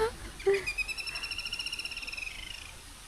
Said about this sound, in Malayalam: കിളി മോസ്റ്റായി കരഞ്ഞു.